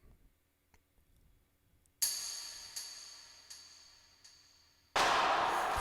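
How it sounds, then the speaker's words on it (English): A distorted rim-shot-like block hit in a song cover, struck sharply once, then a series of reverberant, delayed repeats decaying, followed by a louder wash. "that block sound is actually just like a rim shot,"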